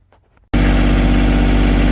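A Kioti tractor engine fires up after a brief quiet moment, then runs loud and steady at a close distance with a constant low idle rumble.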